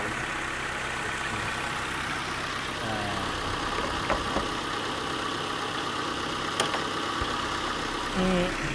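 A 1993 Nissan Altima fitted with a newer engine idles steadily, a smooth even hum with a few faint clicks and knocks over it, no talk.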